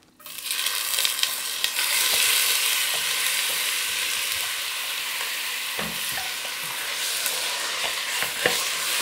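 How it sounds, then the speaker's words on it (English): Blitzed onions fry in a hot pan with a steady, close sizzle that lasts throughout, broken by a few soft scrapes and clacks of stirring. "Into that, we're going to put in the onions that we've blitzed up."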